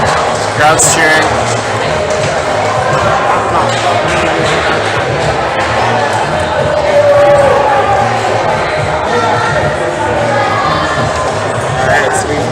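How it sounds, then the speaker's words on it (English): Dense crowd noise fills an indoor top rope climbing competition venue, steady cheering and shouting with occasional thumps, continuous throughout with voices mixed in. "Crowd's cheering."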